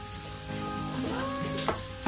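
Onion sautéing in a frying pan for a chicken liver dish gives a steady, close sizzle with a faint tonal hum beneath and a couple of light clacks near the end.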